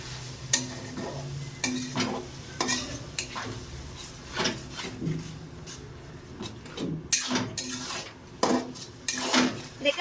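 Chicken is stirred with a green and dried chilli spice paste in a pan, with repeated metal spatula scrapes and clanks against the pan over a soft sizzle, in irregular bursts with no voices.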